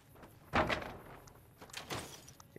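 A door opening in the game Fallout: New Vegas, a quiet, close thunk followed by a second softer clunk and rattle, with little else around it.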